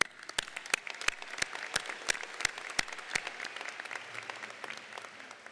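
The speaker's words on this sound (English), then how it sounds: "I think that deserves another round of applause." An audience at a Daytona State College commencement ceremony applauds graduates with steady, mid-distance clapping, sharp individual claps standing out over the crowd's sustained patter.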